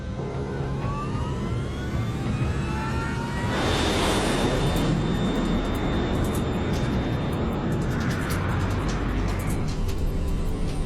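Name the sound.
LAM Mozambique Airlines airliner taking off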